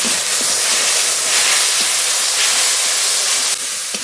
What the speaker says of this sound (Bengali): একটু জল দিয়ে কষিয়ে নেবো